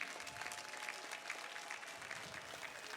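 A crowd at a Mashujaa Day national ceremony claps faintly and steadily from a distance, a soft continuous patter of many hands throughout.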